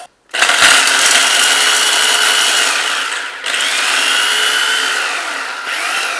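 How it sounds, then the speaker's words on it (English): A food processor whirs loudly and steadily, chopping onions and other vegetables for chicken veggie burger patties, with one brief dip in the motor noise partway through and a short stop near the end. "This machine actually helps me chop everything, so I don't have to cry when I actually cut the onions."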